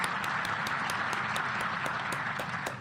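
Audience at a security conference applauding steadily, a dense wash of many hands clapping throughout with a slight fade at the end.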